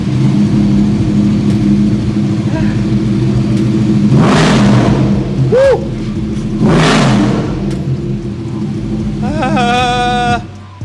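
A Vespa scooter engine cranks and runs with a steady close rumble, rising twice into loud revving surges before a final higher rev near the end, with no talk over it.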